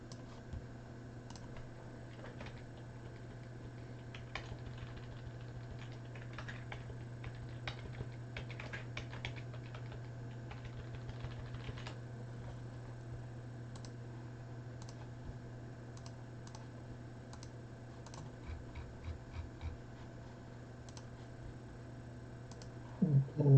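Computer keyboard typing and mouse clicking during spreadsheet editing, with light irregular bursts of key taps and clicks over a steady low electrical hum, faint and close.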